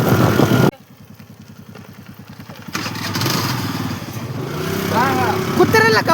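A motorcycle carries riders headed to a Sankranti kite-flying spot, its engine chugging steadily up close with a rising, revving stretch, mixed with wind and people talking over it.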